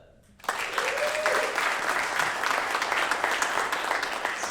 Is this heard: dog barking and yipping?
no